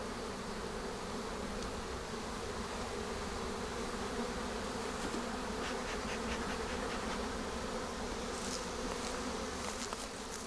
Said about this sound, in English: There's so many bees in here.